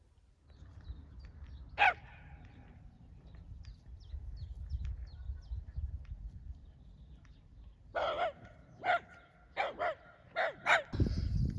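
Dogs bark outdoors near a field in a handful of sharp, spaced barks, one early and then a quick cluster toward the end, with a rooster crowing faintly and a low background rumble.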